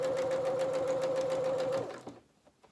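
A sewing machine runs a fast, steady stitch across the bottom of a fabric bunny treat bag, close and loud with a high motor whine, then stops abruptly and leaves a few small handling clicks, with no talk.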